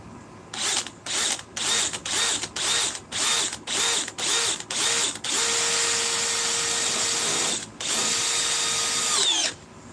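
A power drill whirs in about nine short, evenly spaced bursts, then runs in two longer sustained stretches, loud and close.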